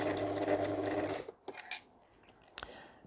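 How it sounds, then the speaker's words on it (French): A domestic sewing machine stitches fabric for a beginner's shower sponge project, running steadily for about a second, then stopping, followed by a few faint clicks and handling noises. "je lève le pied de la machine, je tourne, je rebaisse et je continue à coudre"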